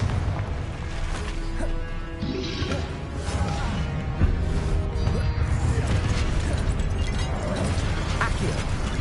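Confringo blasting spells explode one after another in Hogwarts Legacy on PS5, booming and crackling over a dense, continuous wash of battle noise and magic effects, loud and close throughout.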